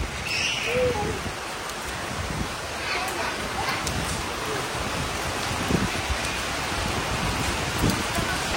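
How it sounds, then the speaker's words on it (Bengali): Heavy rain driven by gusty stormy wind, with lightning about, makes a steady, dense roar and hiss that fills the whole stretch without a break, while faint voices may sit underneath. "শুধু যে বৃষ্টিটাই হচ্ছে সেরকমটা না, বেশ ঝোড়ো হাওয়া দিচ্ছে"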